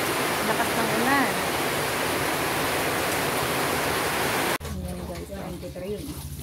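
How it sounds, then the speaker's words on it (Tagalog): Heavy rain pours down at a rural farm in a dense, loud, continuous roar that cuts off abruptly, leaving a quieter background where a voice briefly speaks. "Lakas ng ulan."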